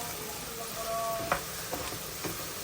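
Okra frying in a pan gives a steady, low sizzle with a few soft stirring clicks and scrapes, close up and with no talk.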